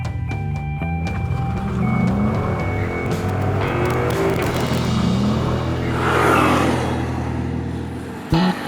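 A Ford Mustang GT drives along a road in India, its engine droning and revving with shifting tones for several seconds, close and loud, with a sharp knock at the very end and no talking.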